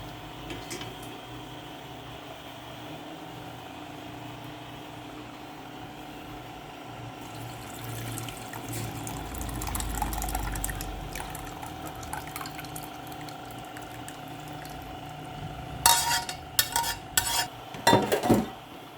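Homemade requeijão curds being drained of separated whey: a faint, steady trickle and drip of liquid with soft stirring, then a few sharper clinks of utensils near the end.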